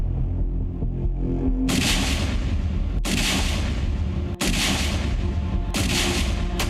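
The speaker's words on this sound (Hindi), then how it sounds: "ये ब्लास्ट तो ट्रेलर है, क्योंकि पिक्चर अभी बाकी है।" A rapid series of loud, heavy blasts booms out, several big bursts a second or so apart over a constant deep rumbling roar, with no voices.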